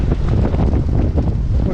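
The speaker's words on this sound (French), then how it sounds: "Il y a du vent." Strong wind buffets the microphone at Cap Formentor on the Balearic coast, a loud continuous low roar with gusty fluctuations and the sea faintly beneath.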